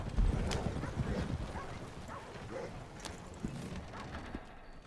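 Horses trotting in the Western video game Red Dead Redemption, a steady clip-clop of hooves on hard ground running throughout, with a faint voice in the background.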